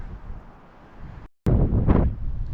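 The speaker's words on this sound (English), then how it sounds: "it's a very windy day" Strong gusty wind buffeting the microphone outdoors on a windy day, a loud low roar that briefly drops out and then returns even stronger.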